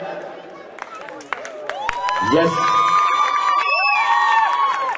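Sangeet audience erupts into cheering, whoops and some clapping that swell after the first couple of seconds and stay loud, with shouting voices mixed in.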